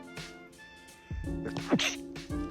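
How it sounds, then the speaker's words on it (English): A single sharp sneeze bursts out mid-clip, with a quick inhale before it and faint background noise around it. "sorry, I'm going to sneeze"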